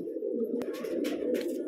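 A gifted pigeon, a pale Deobandi type also called makoya or moti wala, coos in a close, steady low throaty rumble, with a few brief rustles and soft clicks over the top and no voices.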